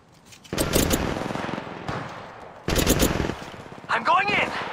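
Bursts of rapid automatic gunfire in the video game Apex Legends, two loud sustained volleys separated by a short pause, followed by a brief whooshing electronic effect, with no talking.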